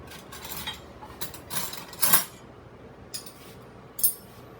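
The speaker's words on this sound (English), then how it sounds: "I like to use a fork and a spoon to help me put them in." A fork and spoon place sweet plantain slices into an air fryer basket, making a few light metallic clinks and scrapes, soft and close, with short pauses between them.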